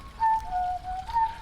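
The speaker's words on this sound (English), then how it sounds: "It's a boy whistling" A boy whistles a short, wavering tune in a sewer at a fork in the line, the clear mid-pitched notes rising and dipping over about a second with a damp, drippy background hiss.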